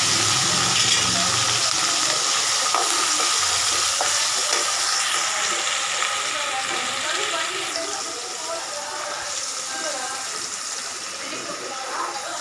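Sliced onions fry in a pan with a broad, steady hiss and occasional stirring scrapes. The noise stays fairly loud throughout and eases slightly toward the end.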